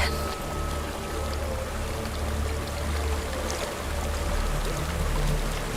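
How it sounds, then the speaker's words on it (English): Waterfall in the video game Hellblade: Senua's Sacrifice: a constant, full rushing roar of falling water, steady and fairly close, with no clear pauses. "There's a waterfall."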